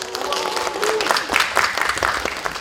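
Audience clapping at a Korean farm-to-table keynote and cooking show as a gift is handed out, steady mid-level applause lasting a few seconds, with a voice briefly over it at the start.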